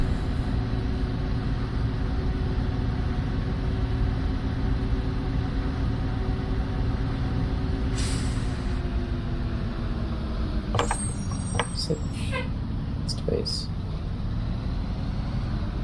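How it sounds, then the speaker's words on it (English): A bus engine runs while driving, making a steady low drone with a continuous hum throughout, joined by light rattles and squeaks partway through. "I'm just enjoying listening to the bus."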